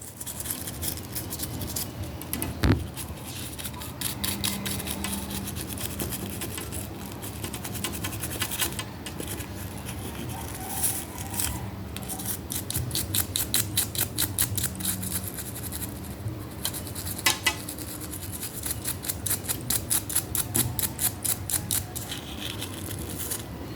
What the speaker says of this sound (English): Let's do the toothbrush now, because that's mostly how I clean pins.